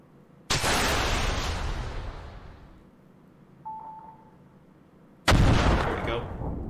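Missile launches in Command: Modern Operations come as two loud, abrupt whooshing roars several seconds apart, each decaying slowly, with a short electronic beep between them.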